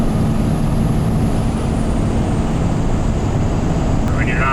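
A Ford F-series pickup swapped with a common-rail Cummins diesel cruises under light throttle, a steady low engine drone and road rumble filling the cab, with a faint high whine drifting overhead.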